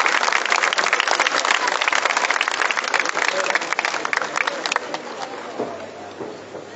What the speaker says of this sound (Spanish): Fuertes los aplausos para nuestro Señor en esta noche.